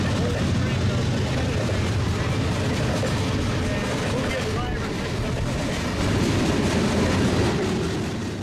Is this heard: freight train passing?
yes